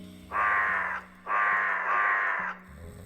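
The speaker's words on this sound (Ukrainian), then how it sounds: "У нас тут є ворон якийсь." A raven caws in the video game Servant of the Lake, giving three long, harsh, drawn-out calls in quick succession. The calls are clear and close against a quiet background hum.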